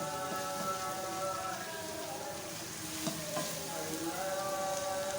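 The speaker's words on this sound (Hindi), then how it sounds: "अच्छी तरह से भुनाई कर लें।" Potatoes, fenugreek and spinach roasting in a pan give a steady, close crackling sizzle with a few brief stirring clinks, and no voices.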